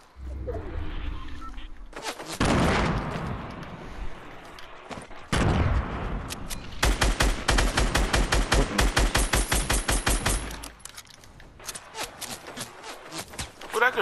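Fortnite gunfire: loud, rapid automatic shots in a long rhythmic burst, preceded and followed by heavier single blasts and shuffling movement, with voices talking over the action.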